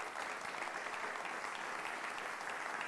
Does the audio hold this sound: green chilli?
no